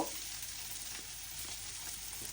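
Finely minced garlic paste fries in a pan, a faint continuous sizzle with soft stirring scrapes, steady throughout and without any talk.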